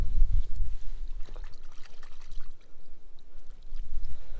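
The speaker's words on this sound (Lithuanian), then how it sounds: "Einam plaut bulvių." Water is poured outdoors to wash potatoes during a riverside meal. After an initial louder splash come faint, uneven trickles and splashes against a quiet natural background.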